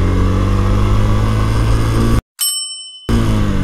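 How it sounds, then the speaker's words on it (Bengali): A Yamaha FZS FI V2 motorcycle pulls away in first gear, its engine giving a loud steady drone close to the microphone, broken by a short dropout near the end. "ধরেন আমি 1 নম্বর গিয়ার থেকে বাইকটাকে স্টার্ট করলাম"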